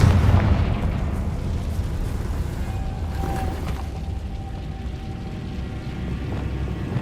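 A Confringo spell explosion in a Harry Potter video game, a loud booming blast that rolls into a long rumbling decay with debris-like crackle, alone without talking.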